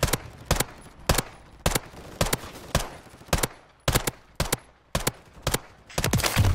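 A gun firing in Call of Duty Warzone on Rebirth Island: a steady series of about a dozen loud, sharp single shots spaced evenly, close and punchy, with brief quiet gaps between.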